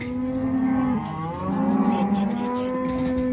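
Calves on a farm during fall cow work moo repeatedly in long, drawn-out calls, fairly close and clear, with a couple of overlapping voices and no talk.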